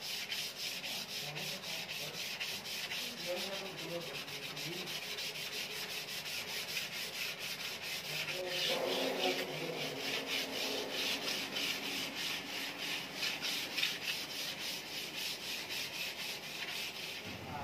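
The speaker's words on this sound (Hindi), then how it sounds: "सैंड पेपर को हम कुछ इस तरह से फोल्ड करके पकड़ेंगे ताकि सैंड पेपर पकड़ने में आसानी हो।" Wood being hand-sanded along the grain with folded 220-grit sandpaper before lacquer polishing, a faint, steady rhythmic scratching of back-and-forth strokes that carries on alone for the whole stretch.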